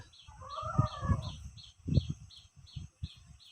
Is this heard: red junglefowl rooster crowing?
yes